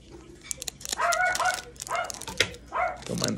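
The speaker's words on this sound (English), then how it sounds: "Don't mind the dog barking." A dog barking indoors, several sharp barks and yips in irregular bursts, fairly close and loud, with a faint whimper between them.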